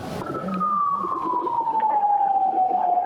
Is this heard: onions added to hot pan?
no